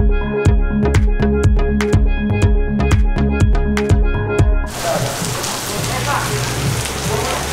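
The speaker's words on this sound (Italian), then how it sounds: "Mentre facevamo le foto da blogger è iniziato a piovere." Rain falls in Bali, arriving as a dense, loud hiss of steady drops after several seconds of rhythmic drumming music, with a faint voice beneath.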